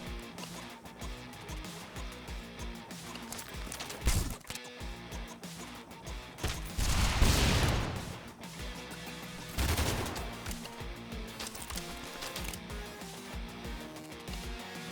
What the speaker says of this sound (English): This shotgun seems like a problem.